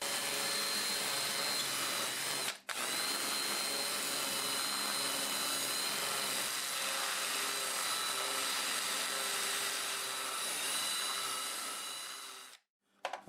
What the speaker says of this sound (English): I'm going to go over it with the Sandiflex